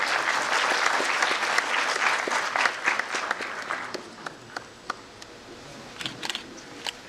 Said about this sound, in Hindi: एक बार जोरदार तालियों से स्वागत